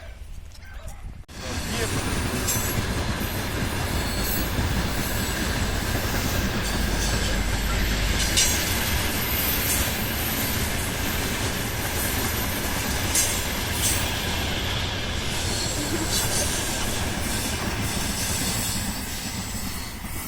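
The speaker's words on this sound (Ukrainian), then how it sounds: "Як нам подобаються потяги." A train passes close by on an autumn walk, its loud, steady rumble and clatter of wheels filling nearly the whole stretch, with people talking over it.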